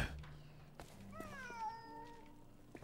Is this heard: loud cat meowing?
yes